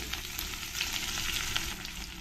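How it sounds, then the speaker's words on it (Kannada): Chana dal fries in hot oil with mustard seeds and cumin, a steady close sizzle with faint scattered crackles and pops throughout. "ಕಡಲೆಬೇಳೆ ಬೇಳೆ ಫ್ರೈ ಆಗ್ತಾ ಇದೆ ಸಾಸಿವೆ ಮತ್ತು ಜೀರಿಗೆ ಕೂಡ ಸಿಡಿಯೋದಕ್ಕೆ ಶುರು ಆಗಿದೆ"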